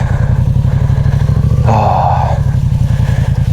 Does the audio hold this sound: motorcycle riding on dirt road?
yes